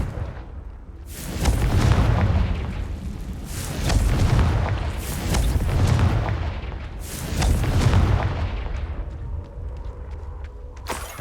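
Confringo fire spell explosions in Hogwarts Legacy, a series of four or five heavy booming blasts with rolling low-end rumble, each swelling and fading about every two seconds, loud and close with no talk.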